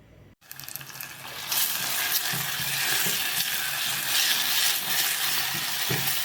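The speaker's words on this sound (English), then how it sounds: "When you're frying the gizzard, make sure you have enough onion." Steady, loud sizzling of onions and chicken gizzards frying in a pan, a broad hiss that swells after a brief pause and continues with faint stirring scrapes.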